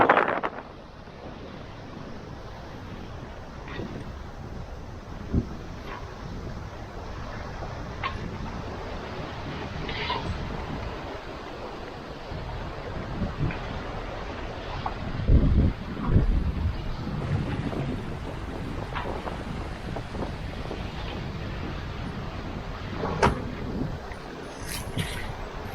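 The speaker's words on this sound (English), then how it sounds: "it's really gusty coming over this island here, and getting like steady kind of 15 to 20 knots" Sailboat under way in steady 15 to 20 knot gusty wind in the Juan de Fuca Strait, constant wind rush and buffeting with water washing against the hull and occasional knocks, no voices.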